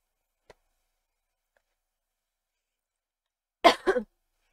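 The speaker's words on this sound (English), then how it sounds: "I apologize for coughing at any point during this video." A faint tick, a long silence, then one close, short cough with a throat-clearing rasp from a person getting over a cold.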